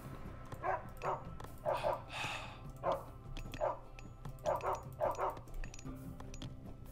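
Dogs bark repeatedly in the Age of Mythology video game, sharp game-sound barks in several clustered bursts over a steady background of game music and ambience.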